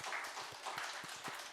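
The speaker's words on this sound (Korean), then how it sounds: "박수로 환영하겠습니다" Brief scattered clapping from a church congregation welcoming a guest during a Sunday service, quiet and fairly sparse, with no voices over it.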